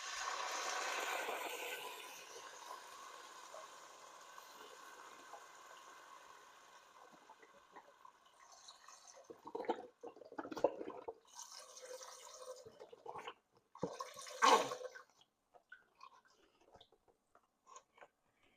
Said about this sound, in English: Now we're going to add the vegetable broth